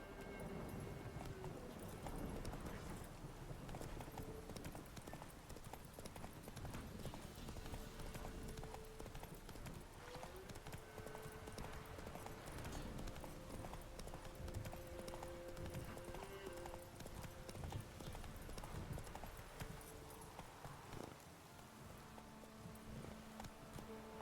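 A horse gallops in The Witcher 3 as steady clip-clop hoofbeats run through the whole stretch, with a soft whinny and faint game ambience behind them at moderate level.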